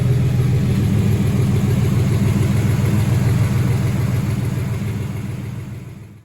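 A sport truck engine idles steadily for about six seconds, a loud, close, even low rumble with no talking, tapering off slightly at the very end.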